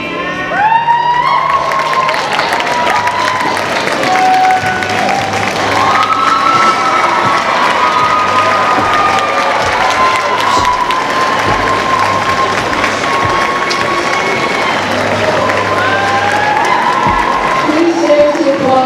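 A school assembly crowd at a Snowball event cheers, whoops and applauds loudly and continuously, with many overlapping young voices shouting.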